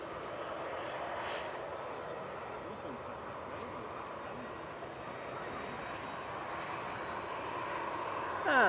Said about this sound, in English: Austrian on the taxi out towards us